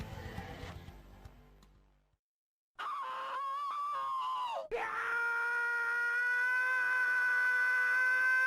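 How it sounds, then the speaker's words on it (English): A person screaming in anguish in a game's long recorded clip: harsh screaming at first, a short gap of silence, then a sustained, wavering high wail that holds steady to the end. "This one, for example, is just a long clip of someone screaming."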